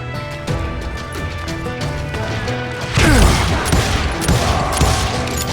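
Gunfire in the Western shooter game Call of Juarez Gunslinger, a burst of rapid overlapping shots that erupts about three seconds in over mechanical clatter, loud and dense with trailing echoes.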